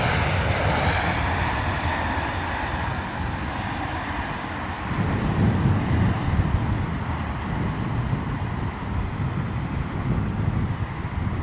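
A British Airways airliner in retro BEA livery roars in to land at Heathrow in wet, windy weather, a loud continuous low jet rumble swelling midway and holding with wind buffeting.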